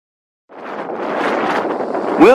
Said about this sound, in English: Windy as hell, but that's okay because it blew all the fog away.